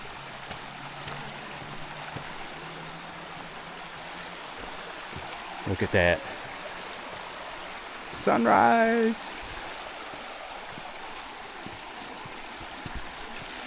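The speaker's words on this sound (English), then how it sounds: "there's a nice creek going down the backside of the camping areas" A small creek flows behind a camping area in the North Georgia mountains, a steady near rush of water throughout, with two brief bursts of someone talking over it.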